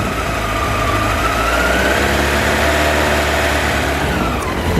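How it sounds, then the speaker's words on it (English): A year 2000 Honda CB 1300 Super Four motorcycle idles cold just after the choke is switched off, a loud, continuous low engine rumble that runs slightly unevenly throughout with no talking. "the choke is now off, and it's not idling real smooth because it's cool, but let's let it warm up a little bit"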